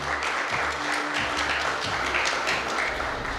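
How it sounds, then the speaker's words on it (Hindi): A crowd claps steadily, dense applause filling the space for a few seconds, fairly loud and continuous. "जोरदार तालियां बजाएं आप लोग।"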